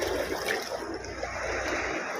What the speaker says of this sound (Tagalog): Lakas sa alon.